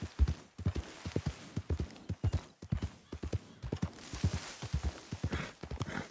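Horse hooves in the Red Dead Redemption 2 video game clip-clop in a brisk, steady rhythm of many close, crisp hoof strikes, heard on their own without talk.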